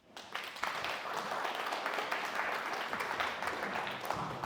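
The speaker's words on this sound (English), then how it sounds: "Lots of clapping for ahistorical nonsense." An audience at a conservative debate event applauds in a sustained, dense burst of clapping that rises quickly and holds steady throughout.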